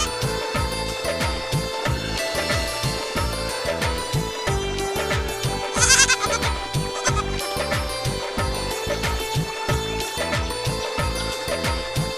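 A goat tethered near a river bleats repeatedly amid a dense, rhythmic layered background, with one sharper, brighter cry standing out midway.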